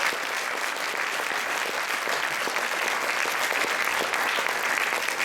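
A large audience applauds the dancers at a dance competition, the clapping dense, even and sustained throughout with a faint crowd murmur beneath.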